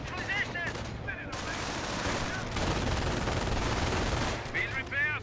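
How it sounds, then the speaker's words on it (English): Gunfire on German Grenadiers in Company of Heroes: a dense crackle of small-arms and machine-gun bursts over a rumbling battlefield, with short radio-style voice lines at the start and end. "Getting a bit of fire there on the Grenadiers"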